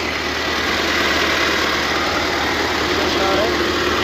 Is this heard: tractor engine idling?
yes